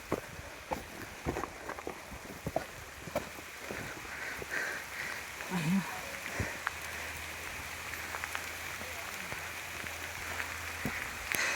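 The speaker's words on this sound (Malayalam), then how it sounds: "നോക്കണ്ട മഴ കൂടി" Heavy rain falls in the Kerala mountains as a steady broadband hiss with scattered sharp drop taps and a low rumble, continuous throughout with no talking.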